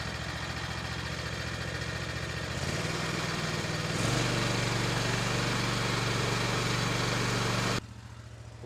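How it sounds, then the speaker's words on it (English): A Scag Freedom Z lawn mower engine runs steadily at close range, its droning tone stepping up in pitch partway through before cutting back to a quieter idle near the end. "While your lawnmower's running"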